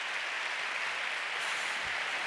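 Sustained applause from a gala audience at an awards ceremony, a dense, even wash of clapping with no pauses or voices standing out.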